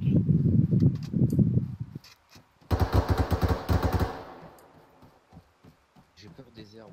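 Rapid bursts of video-game gunfire crackle loudly for over a second in a tactical shooter match, following French-speaking player chatter and trailing into quieter talk and clicks.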